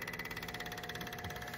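Small engine with a faulty carburetor idling close by, a steady rapid pulsing chug with a faint whine on top and no voice over it.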